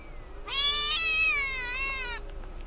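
A single drawn-out cat meow from the horror video game Crooked Man, clear and tonal, rising then slowly falling over about two seconds against a quiet background.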